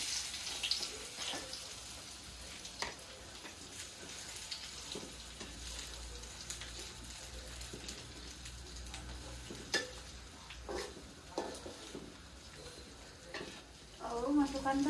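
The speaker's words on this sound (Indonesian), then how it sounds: "Bahan-bahan yang sudah disiapkan dan sudah diiris kita tumis." Sliced, prepared ingredients stir-fry in a pan: a steady low sizzle with scattered clicks and scrapes of stirring, and a few louder clatters near the end.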